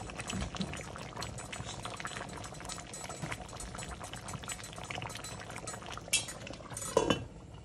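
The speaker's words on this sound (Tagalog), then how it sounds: "So, isi-simmer natin ng 40 to 45 minutes." Pork ribs simmering in a covered pot with water and Sprite, a faint continuous bubbling with occasional clinks of a lid or utensil and a sharper clatter near the end.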